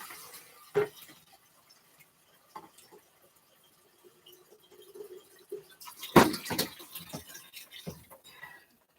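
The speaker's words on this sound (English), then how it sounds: "Let me get some more water in." Water being added to a pot of pumpkin porridge, heard as scattered drips and splashes with one louder pouring burst midway, fairly close in an otherwise quiet kitchen.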